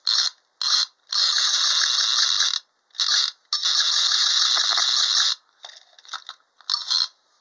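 Loud, close mechanical whirring and ratcheting from a 1960s wind-up toy duck, in repeated bursts, short and long runs separated by brief pauses, ending in a few softer clicks.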